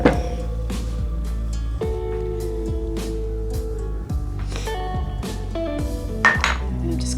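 A metal spoon stirs sour cream salad dressing in a bowl, knocking against the sides in a steady series of bright ringing clinks and taps, with no one speaking.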